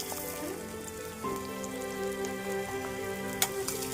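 Green chillies slit lengthwise fry in hot oil in a pan for egg bhurji, giving a steady close sizzle and crackle that runs throughout, with a few small pops and spits.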